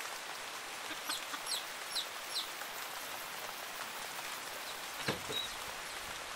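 Chickens in the video game Backwoods Town give a few soft, scattered clucks against a steady hiss of background ambience, with a brief louder thud near the end.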